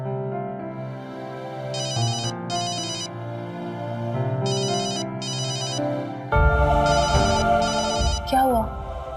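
A telephone rings in a repeated electronic ringtone pattern of short bursts over background music in a dramatic scene, followed by a louder musical sting.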